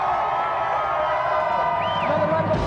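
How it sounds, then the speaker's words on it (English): A TV game show studio audience cheers and whoops in a dense, steady roar, with a single high whistle rising above the noise near the end. "Another round of applause there for David and Jason."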